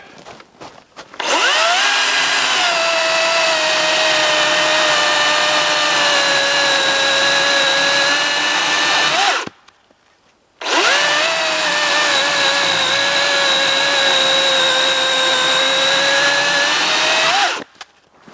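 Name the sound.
60 volt cordless chainsaw with 16-inch bar cutting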